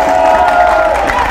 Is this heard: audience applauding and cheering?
yes